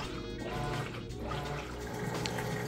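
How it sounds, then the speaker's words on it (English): Whirlpool top-load washer agitating clothes in a deep-water wash, a steady churning slosh of water with low rhythmic surges, close and continuous with no talk. "And the agitator is getting busy, vortexing those clothes down and getting them clean."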